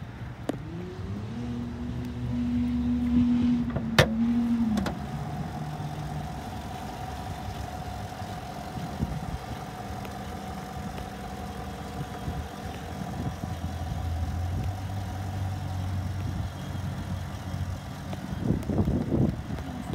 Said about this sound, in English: show you the motor real quick. Let you hear it running if you can hear it through on the video.